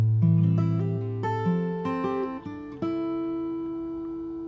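Fingerstyle acoustic guitar plays a bar of a song, with plucked bass notes and ringing open strings. Several notes are picked in a steady, unhurried rhythm, and the bar is played alone, close and clear, with no voices.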